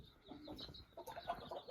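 Bantam chickens clucking inside a coop, several soft, close clucks and murmuring calls overlapping at a low, quiet level.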